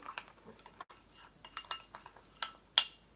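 A utensil clinks and scrapes against a bowl while a marinade is mixed, giving a quick irregular run of light metallic taps and rattles, close and fairly quiet, with one sharper clink near the end.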